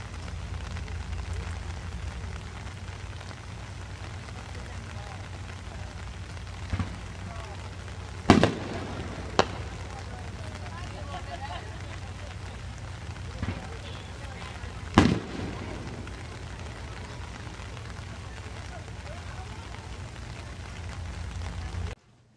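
Fourth of July fireworks go off as a handful of separate sharp bangs against a continuous low rumble and crackle, with people talking in between.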